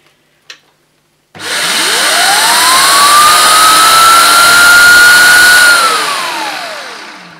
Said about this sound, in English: Let's see how effective this power brush looks.